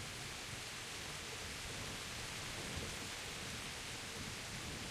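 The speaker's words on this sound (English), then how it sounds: "Can I turn the rain down?" Steady heavy rain and rumbling thunder from a storm in the medieval role-playing game Kingdom Come: Deliverance, a constant dense wash of noise that holds even and unbroken throughout, with no voices.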